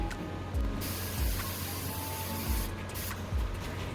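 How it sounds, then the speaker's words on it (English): Steady hissing spray from an aerosol can of spray adhesive, continuing almost without pause, with a faint mechanical rattle underneath. "I want to secure the sleeves together with spray adhesive."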